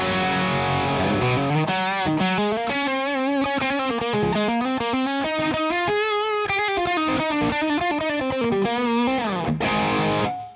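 Electric guitar played through a simulated Mesa Boogie Triple Crown amp channel, a continuous distorted, saturated lead line of sustained and bending notes, loud and close for about ten seconds before cutting off.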